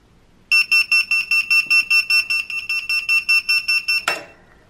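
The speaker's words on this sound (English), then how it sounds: "It beeps when the time is up." A heat press timer beeps rapidly and repeatedly, about a dozen loud, shrill electronic pulses in a steady rhythm, ending with a click.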